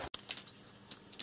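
A pigeon flutters close by indoors with a few soft wingbeat bursts and faint chirps, quiet and brief.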